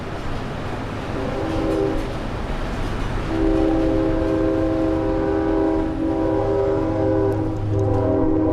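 A train rolls past an old closed asylum, its rumble and wheel clatter building before a loud, sustained horn blast sounds nearby and holds for several seconds.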